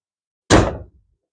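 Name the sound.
car door shutting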